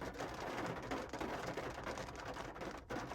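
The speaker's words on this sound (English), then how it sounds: "It was just sunny 2 seconds ago, and now it's hailing. Okay, now we're just turning to big raindrops." Hail giving way to big, heavy raindrops in a sudden storm outside a Target store, a dense, steady patter that fills the whole stretch at a moderate distance.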